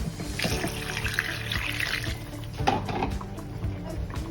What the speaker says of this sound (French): Je vais rajouter encore de l'eau.